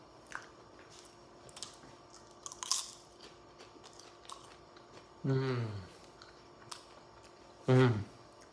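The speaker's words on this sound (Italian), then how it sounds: "Eccolo, ok, assaggiamo, dovrebbe essere croccante." Close, crisp crunching bites into a dried, crunchy peperone crusco pepper: scattered small cracks, then two loud chewing bursts near the end. A few vocal sounds occur between bites.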